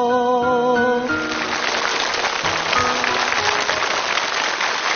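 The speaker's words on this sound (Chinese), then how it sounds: "掌声送给马一鸣" A studio audience on a TV game show breaks into loud, sustained applause as a sung note ends, dense clapping filling the room.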